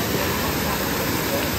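A rushing waterfall gives a loud, close, continuous roar of churning water that stays even and unbroken from start to finish.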